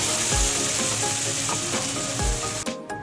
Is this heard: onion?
yes